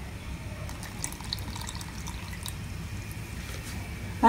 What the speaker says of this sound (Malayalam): അര ഗ്ലാസ് വെള്ളവും കൂടെ ചേർത്ത് മിക്സ് ചെയ്തൊന്ന് എടുക്കാം.